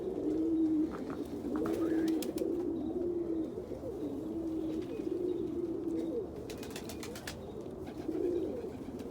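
Pigeons coo in soft repeated throaty calls, fairly close, in cold weather, with faint chirps and ticks from other birds around them.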